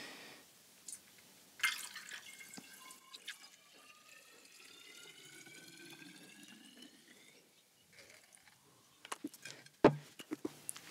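Young red wine poured from a bottle through a funnel into a decanter, a quiet, close trickle and gurgle of liquid lasting several seconds, ending with a few faint drips and clinks of glass.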